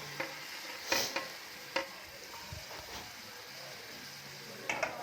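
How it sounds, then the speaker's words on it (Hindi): Capsicum, green chilli and carrot stir-fried in spiced masala in a pan. Repeated scraping stirring strokes sound over a soft, continuous sizzle, close and fairly quiet. "और अब हम इसमें ऐड करेंगे शिमला मिर्च, हरी मिर्च, गाजर और इसकी भुनाई करेंगे।"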